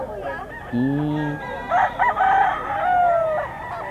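A young rooster (stag) crows at a busy pet market, a clear, close cock-a-doodle-doo over a steady murmur of people talking and other fowl calling in the background.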